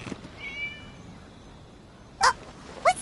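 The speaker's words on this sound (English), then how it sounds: "It was just a cat." A cat meows in the game Genshin Impact, two short bright cries near the end after a quiet stretch, with a faint tonal chime earlier.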